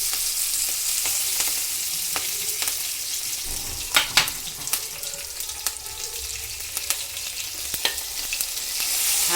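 Cumin, mustard seeds, garlic and curry leaves fry in hot oil with a steady, close sizzle and scattered crackles and pops throughout, no voices.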